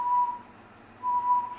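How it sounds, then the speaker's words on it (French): Two clear, steady whistled tones, each held about a third of a second, with the tongue kept in an L position and a short silent gap between them. "Et là, je siffle."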